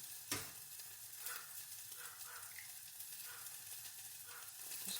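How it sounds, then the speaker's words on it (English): Eggs sizzle in a frying pan of water, a steady close crackling hiss that runs through the clip with a sharper pop near the start. "That's sizzling so loud, I hope you can hear me."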